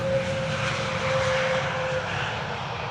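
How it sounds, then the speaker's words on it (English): An Airbus A320neo airliner on arrival at Amsterdam Schiphol's Polderbaan runway, with a loud, steady engine roar and a thin whine running through it, heard outdoors without speech. "ETA Airways 108, arriving from Rome. A320neo, spacious carrying cabin in the back."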